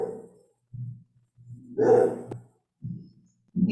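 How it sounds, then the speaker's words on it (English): A dog barks in several short, separate bursts, fairly close and alone against quiet, with a longer louder bark in the middle, as if reacting to a mail carrier arriving. "The dog's barking."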